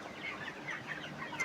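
Faint, soft clucking from chickens in a poultry farm shed on a hot day, several brief calls scattered over a quiet background.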